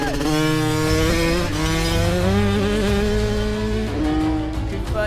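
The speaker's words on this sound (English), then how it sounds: "Cooper is away and pinned on his KTM 50" A KTM 50 youth motocross bike rides off at full throttle on a dirt track, its high-pitched two-stroke engine screaming continuously and shifting pitch as it pulls away, loud and close.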